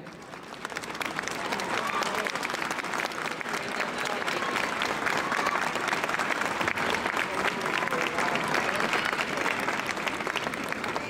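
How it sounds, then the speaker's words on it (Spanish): An audience applauds steadily and loudly for about eleven seconds at a carnival proclamation ceremony in Tembleque, the dense clapping of a crowd rising quickly and holding strong, with no speech over it. "Un fuerte aplauso para él."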